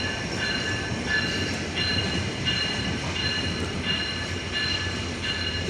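A 727 Rupsha Express intercity train at Chilahati station rumbles steadily and loudly up close, with a continuous rolling roar and faint high metallic squeal throughout, no voices.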